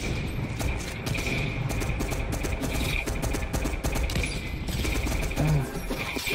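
Dense, continuous bursts of rapid gunfire in a Fortnite Battle Royale squads match, loud and sustained throughout with overlapping shots and faint voices beneath.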